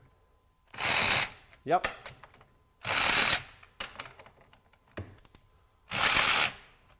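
A Durofix RW1216 12V cordless ratchet being triggered against 10 foot-pounds of torque gives three short, loud mechanical whirring bursts spaced a few seconds apart, with a brief spoken word and light handling noise between them.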